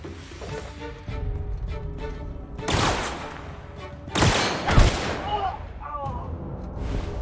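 Gunfire and booming shots in The Outer Worlds come as a few heavy bursts over a busy battle mix, some close and loud, some duller. Game dialogue and shouting are heard throughout.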